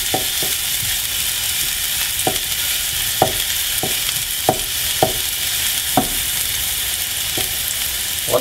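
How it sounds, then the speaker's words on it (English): Ginger sizzles steadily in hot oil while cooking longshucai in Taiwan, a constant frying hiss broken by sharp, irregular taps of a utensil stirring every second or so, with no talk. "You hear the sizzling sound, and then when you smell that good aroma from ginger, that means it's ready."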